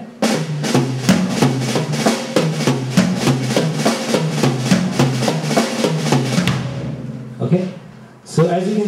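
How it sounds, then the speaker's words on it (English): Drag rudiments played on a drum kit in a beginner drum lesson: a fast, even stream of close strokes, each main hit led by two light grace notes, running for several seconds before stopping, with a brief voice and a couple of stray hits afterward. "is the drag, which is actually two, you know, light notes preceding your main hit."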